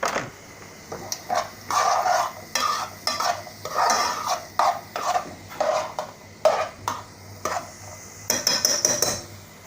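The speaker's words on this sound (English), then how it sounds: "So I'm going to fry those off for a couple of minutes until they're nice and golden." Onions frying in a pan with repeated scraping stirs, a soft sizzle beneath rhythmic bursts of utensil-on-pan noise, close up.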